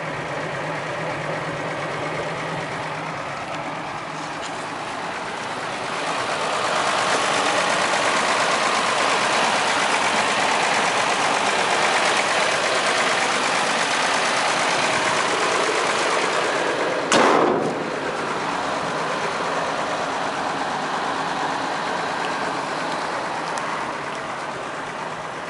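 A 1958 Ford F100 pickup engine idles steadily and close by, with a low continuous rumble that swells slightly as the revs rise partway through, and a single sharp knock near the end.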